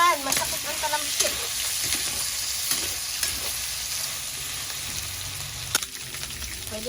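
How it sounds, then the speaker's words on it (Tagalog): Pork fries in hot oil for pork binagoongan, spitting and splattering in a steady crackling sizzle with stirring scrapes and occasional sharper pops, fairly loud and close, no voices heard. "Sasangkot sa muna ang pork. Ay! Nanlalaban! Masakit ang talamsik."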